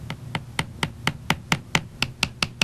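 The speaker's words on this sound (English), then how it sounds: "I'll then strike it with the cross-peen hammer." A cross-peen hammer taps a metal rivet at a jeweler's bench: about a dozen light, sharp, evenly spaced strikes in steady rhythm, close and clear with no talk.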